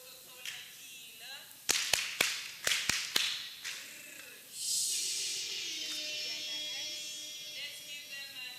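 Audience at a children's summit closing ceremony performing a rhythmic clap routine: six crisp, evenly spaced claps, then a loud crowd cheer with mixed voices.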